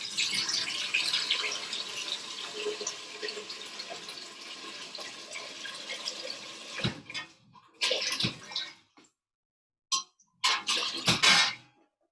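Tap water runs steadily into a cooking pot for a simple tomato pasta, a loud continuous splashing gush that breaks into short bursts and stops near the end, with no talking.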